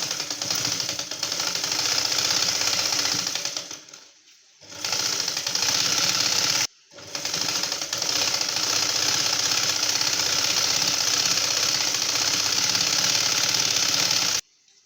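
Close, loud sewing machine stitching a prince cut blouse, a continuous rapid mechanical hum broken by two short pauses and then stopping abruptly, with no talking.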